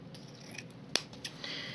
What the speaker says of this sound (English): 2 feet of ribbon and cut it.